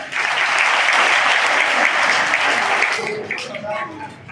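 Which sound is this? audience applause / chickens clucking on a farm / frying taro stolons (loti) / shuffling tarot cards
audience applause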